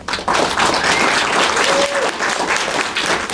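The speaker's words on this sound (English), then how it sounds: "please give them a round of applause" An audience applauds the 2019 HearStrong award champions at an awards ceremony: loud, dense, continuous clapping that starts almost at once and holds steady to the end, with no speech over it.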